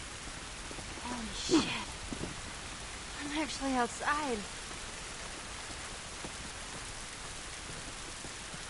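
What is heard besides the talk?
rain falling in video game The Last of Us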